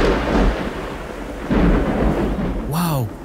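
Thunder rumbles low and heavy in a storm at the start of Kenya's rainy season, rolling in two long swells with steady rain noise, and a descending animal call cuts in near the end.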